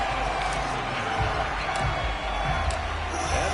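A sold-out stadium crowd cheers steadily at a Cincinnati football game against the Kansas City Chiefs in Madden 22, a dense continuous roar with no clear peaks.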